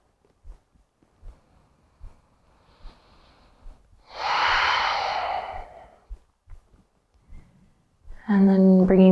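Slow breathing during a yoga session, with a long audible exhale swelling and fading in the middle among faint soft sounds, followed by a voice speaking at the end.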